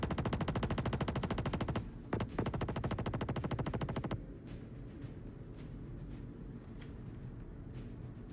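Rapid spaceship gunfire in Star Citizen rattles loud and dense for about four seconds, briefly stuttering midway, then cuts off to a quieter rumbling hum with faint scattered knocks.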